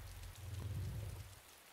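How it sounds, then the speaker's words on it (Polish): Brief burst of rain in the video game DayZ Mod, a dense low rushing downpour with a faint rumble beneath, fairly loud and steady before trailing off, no voices. "Czemu ten deszcz tak dziwnie pada, o co chodzi?"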